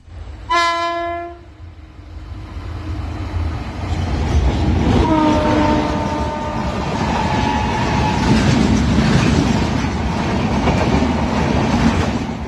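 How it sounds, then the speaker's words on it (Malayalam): A train horn sounds briefly at the start, then the loud steady roar and rattle of a fast-moving train on the Konkan route continues throughout, with a second horn in the middle. "നമ്മുടെ ട്രെയിൻ ഇങ്ങനെ ചീറിപ്പാഞ്ഞ് പോയിക്കൊണ്ടിരിക്കുകയാണ്"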